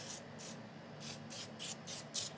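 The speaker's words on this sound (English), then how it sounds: "I'm going to spray this a little bit because it's just like dry." Cooking spray can misting an angel food cake in a home kitchen, about seven short hissing bursts in quick succession, faint and close with no talk.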